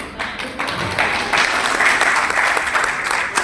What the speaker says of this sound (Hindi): आप लोगों ने धीरे धीरे ताली बजा दी